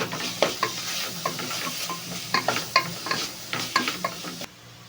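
Stirring masala with turmeric powder in a pan for home-style chicken biryani: repeated close scrapes and knocks of a spatula over a steady frying sizzle, cutting off abruptly near the end.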